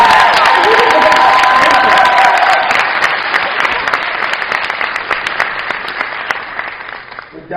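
An audience at a Johns Hopkins University speaking event applauds loudly and steadily with scattered cheers, the dense clapping thinning and fading toward the end.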